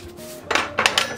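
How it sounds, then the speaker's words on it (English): A knife trims the edges of a chocolate brownie in a pan, making three short scraping, clinking strokes against the pan after a quiet start, close and alone. "So, first we're gonna trim our brownie."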